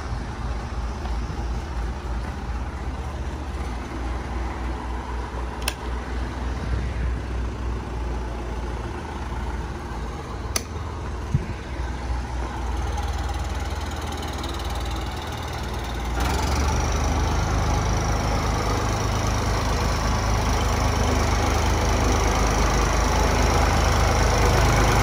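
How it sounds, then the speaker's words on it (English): A Ford tractor's engine runs inside a barn while the tractor is moved out. A steady low idle rumble holds throughout, with a few sharp clicks, and it grows louder and fuller toward the end as the machine drives off. "we got a Ford tractor inside the barn that we're gonna have to move."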